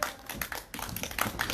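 Audience at a Korean outdoor candlelight gathering in Seongju clapping as a singer comes on stage, a short burst of scattered, fairly close hand claps with no voices.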